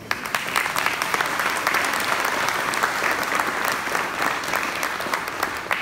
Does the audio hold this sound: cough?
no